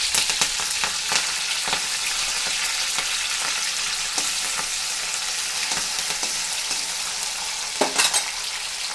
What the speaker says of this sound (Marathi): टॅमॅटो चांगला परतून घ्यायचा आहे